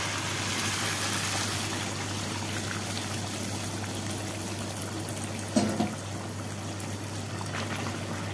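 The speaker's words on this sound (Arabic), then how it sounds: "ابدأ اضيف الميه." Water poured into a pot of rice, a continuous hissing flow with a soft gurgling splash midway, faint and close with no talk.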